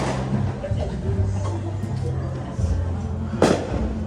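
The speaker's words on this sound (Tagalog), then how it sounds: "Fireworks." New Year fireworks burst outdoors, a few muffled booms at moderate distance with one sharper crack near the end, under low murmuring voices.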